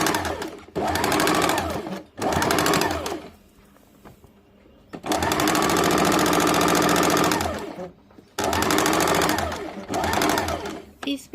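A sewing machine stitches the underarm seam of a kameez sleeve at a half-inch margin, running in several bursts of fast, even whirring separated by short pauses, close and loud.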